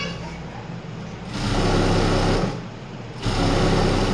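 A sewing machine stitches a garment in two loud, steady runs of whirring, each lasting about a second, separated by brief pauses with a quieter background.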